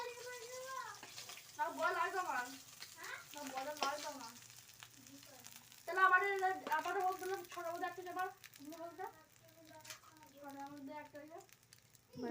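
Potatoes sizzle softly in hot oil, a faint steady frying hiss beneath a person talking at close range through most of the stretch.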